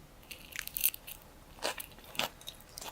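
Someone bites and chews a mouthful of salad with pickled red onion up close, producing several crisp, crunchy bursts at uneven intervals, with no talking.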